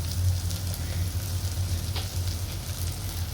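A steady, close sizzle of a masala mixture with cumin powder frying in a pan for egg rice, a continuous crackling hiss with no talk.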